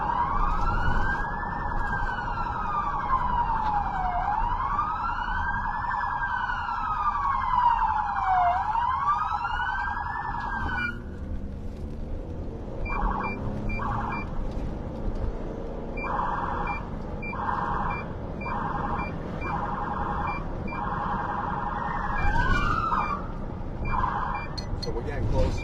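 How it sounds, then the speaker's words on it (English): A police car siren wails in long rising and falling sweeps, then switches to rapid yelping bursts, loud and close, with some background talk and vehicle noise underneath. "that's when I use my siren instantly"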